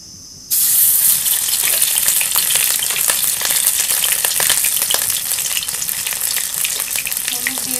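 Ginger garlic paste hits hot oil with dried chillies for a crab curry base, a sudden loud sizzle that keeps frying and crackling steadily close by.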